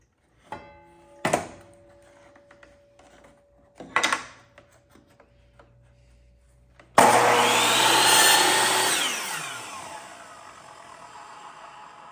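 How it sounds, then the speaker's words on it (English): Power saw cutting long wooden dowels made from 2x3 lumber, starting with a few sharp knocks as the wood is positioned, then a loud sustained whining cut that slowly fades as the blade spins down, close with no voices. "we are cutting the longer dowels we made into the correct dimension we need"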